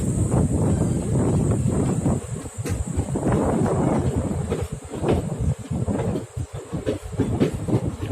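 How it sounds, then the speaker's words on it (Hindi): A Hoshiarpur Express train pulls fast out of Karnal station after a halt, a loud continuous rumble and wheel clatter with rushing wind, steady throughout with no talk. "आफ्टर ओवरटेक ट्रेन ने लिया डिपार्चर, और फास्ट डिपार्चर है"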